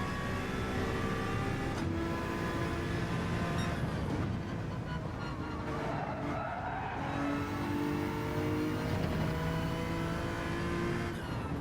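A Honda NSX Gr.3 race car in Gran Turismo 7 holds high revs, its engine drone loud and continuous with shifting pitch, and brief tire scrubbing mixes in.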